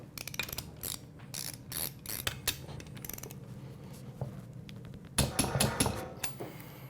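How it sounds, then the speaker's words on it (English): A torque wrench ratchets while the head studs on a CRF450X dirt bike engine are tightened during final assembly. It makes quiet, close clicking in irregular bursts, with a louder run of clicks near the end. "Go ahead and torque the head studs"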